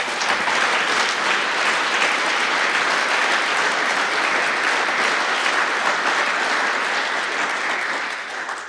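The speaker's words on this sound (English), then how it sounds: "And that applause was definitely for Frederick, I think, or for Christine for organizing this event" A conference audience applauds at the closing session, a dense, sustained wash of clapping that holds steady for several seconds before tapering slightly at the end.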